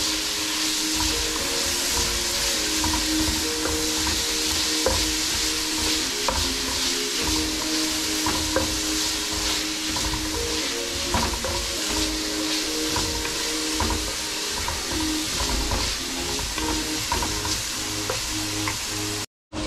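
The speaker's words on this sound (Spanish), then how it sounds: "Ya que ya está frita la cebollita, integramos los pimientos." Onion and green and red bell peppers fry in a pan with a steady, loud, continuous sizzle, broken by occasional clicks of stirring, with no voices.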